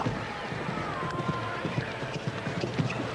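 Show-jumping horse galloping and clearing fences in an evening jump-off round in Calgary, with steady hoofbeats thudding under a commentator's voice over an outdoor arena hum.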